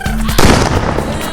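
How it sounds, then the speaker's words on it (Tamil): Small paper firecrackers from a packet burst in a quick crackling series, sharp loud pops close by with a dense rattle of smaller snaps. "எவ்வளவோ வெடி இருந்தாலும் எங்களுக்கு ஆல் டைம் ஃபேவரட் இந்த சீனி வெடி பாக்கெட் தான்."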